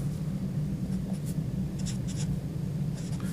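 A pen or marker scratches steadily across a surface while a trigonometry sum formula is written out, the faint strokes coming in short bursts over a low room hum with no talking.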